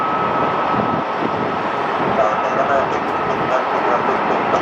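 A brand-new Airbus A320neo jet airliner taking off at Las Vegas airport, a loud, steady, broadband engine roar heard from a distance without letup.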